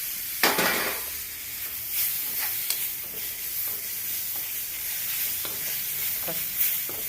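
Chopped tomatoes sizzle and fry in a hot pan while a spoon stirs them in steady scrapes, a continuous close crackle with occasional louder clinks and swishes, no talking.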